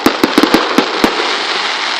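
New Year's fireworks burst in a rapid cluster of sharp, loud cracks, about seven close reports in the first second, then a lingering crackling hiss trails off.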